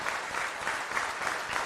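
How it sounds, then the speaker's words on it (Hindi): Loud, dense applause from a crowd at an Aam Aadmi Party councillors' meeting in Delhi, a steady wash of many hands clapping without a break. "जोरदार तालियों से"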